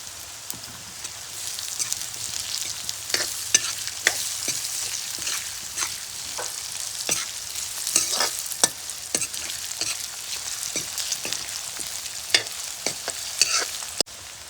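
Potatoes with onion and turmeric fry in a pan as a constant sizzle with irregular scraping clicks from stirring, close by and without voices.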